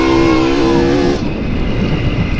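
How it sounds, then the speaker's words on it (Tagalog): A motorcycle on a road between barangays in Butuan City sounds loud and close, its engine whine holding steady before dropping away as it passes, then a rougher engine rumble continues. "May motor doon sa unahan oh."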